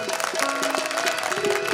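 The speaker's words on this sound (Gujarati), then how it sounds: "મિત્રોને તાળીઓથી વધાવીએ" An audience claps to welcome a harmonium player at a folk performance in Sanosara, Amreli, a brief patter of applause layered over sustained harmonium tones.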